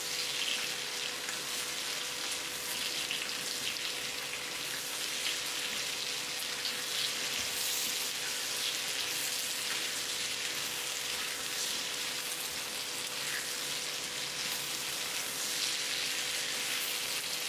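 Ginger and cumin paste frying with vegetables in a Bengali dish gives a dense, even sizzle that holds steady and close for over seventeen seconds, with no talk.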